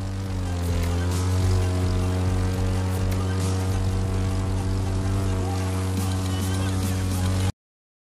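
A propeller airplane flies low over treetops in the racing game The Crew 2, its engine a loud, steady droning hum with a layered buzz that holds without letup before cutting off abruptly near the end.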